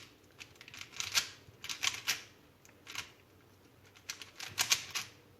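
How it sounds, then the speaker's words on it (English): A 3x3 Rubik's cube is scrambled by hand, giving quick bursts of sharp plastic clicking and rattling in uneven clusters, close up and fairly quiet, with no voices. "So let me shuffle the cube."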